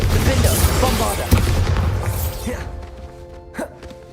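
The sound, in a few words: Confringo and Bombarda spell blasts in video game Hogwarts Legacy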